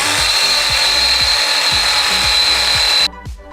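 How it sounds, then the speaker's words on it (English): A Ryobi angle grinder bites into quarter-inch steel plate with a loud, steady high-pitched whine and grinding hiss, dull rhythmic knocks underneath, then cuts off abruptly near the end, leaving a brief winding-down clatter. "My first attempt at cutting this 1/4" steel plate is with my new Ryobi"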